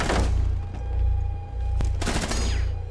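MP5 submachine gun fire in Rainbow Six Siege, with heavy low-end bursts of shots and sharp impacts rolling across three seconds, loud and close, mixed with game noise.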